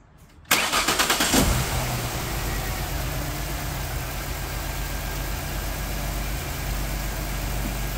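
A Jaguar engine, just fitted with new coil packs and spark plugs, cranks briefly with a rapid chugging, catches, and settles into a steady idle that continues to the end.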